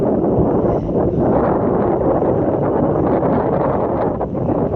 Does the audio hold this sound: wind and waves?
yes